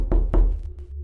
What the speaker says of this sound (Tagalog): 3 malalakas na katok sa pinto.